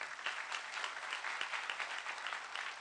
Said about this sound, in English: Let's clap for Nick.